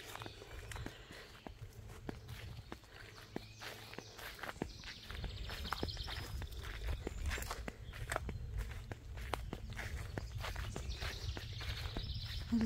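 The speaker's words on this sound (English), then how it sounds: "I probably shouldn't wear flip-flops. You hear my flip, flip, flip." Flip-flops slapping along outdoors on an Indiana homestead, a steady run of quiet, close footsteps with faint background ambience and no talking over them.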